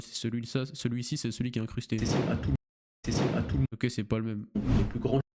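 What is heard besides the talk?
None of the usual background noises is heard.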